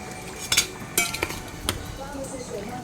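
Fried chillies and salt get mashed and mixed in a dish, with a few soft clinks and scrapes of a utensil against the plate, quiet and close.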